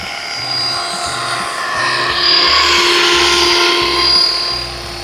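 Devil X360 GPS radio-controlled helicopter hovers nearby with a steady high-pitched rotor and motor whine, swelling slightly louder as it passes, with no talking.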